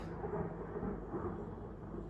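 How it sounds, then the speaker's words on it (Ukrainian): Low thunder rumbles steadily through a summer storm, a dense continuous roll with no clear single crack, heard at moderate distance and fairly faint. "Ой, ой, гримить."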